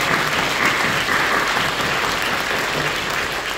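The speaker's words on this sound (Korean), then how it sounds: "박수해주십시오" A church congregation applauds during a Thanksgiving worship service, an even, sustained wash of many hands clapping together in a large hall.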